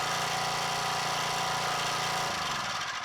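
Powermate gas lawn edger, its small engine already running: a loud, close, steady buzzing drone that shifts pitch near the end as the engine settles.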